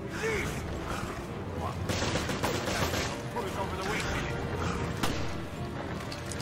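Gunfire and combat noise in Resident Evil Revelations, repeated shots and mechanical clanks over a dense rumbling backdrop, with excited player voices throughout.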